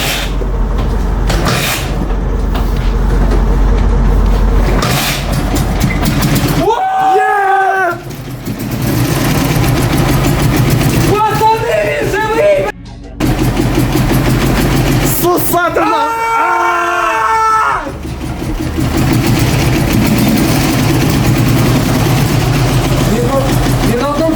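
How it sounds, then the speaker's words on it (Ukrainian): Dnipro or IZh motorcycle engine making its first start after repair while firing on only one cylinder, giving a loud, steady, rough low rumble close by with brief dips, and voices breaking in over it. "Тут ми пробуємо зробити перший запуск. Він вдався, але лише на одному циліндрі."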